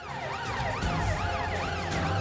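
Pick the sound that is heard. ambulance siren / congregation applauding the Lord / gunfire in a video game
ambulance siren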